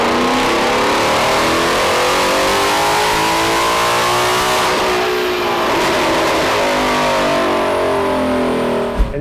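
A 2022 Ford Mustang GT with the Gen 3 Coyote V8 revs hard on a chassis dyno, a loud continuous engine roar whose pitch climbs steadily and then sweeps on through high RPM, with no voices over it.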